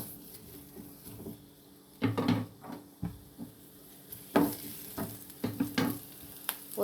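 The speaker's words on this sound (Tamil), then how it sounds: "பெரிய வெங்காயம் சேர்த்து வதக்கி விட்டுக்கலாம்" Large onions sauté in a little oil in a pan, with a soft continuous sizzle broken by several bursts of louder clattering and scraping as they are stirred.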